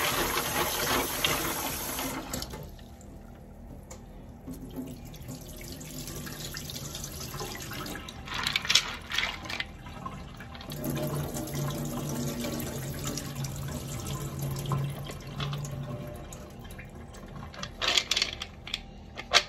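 Almonds being washed under a running kitchen tap, a steady broadband rush of water lasting throughout, with brief louder splashes and clatter near the middle and end and no talking.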